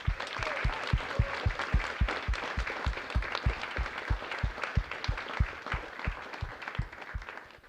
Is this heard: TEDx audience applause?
yes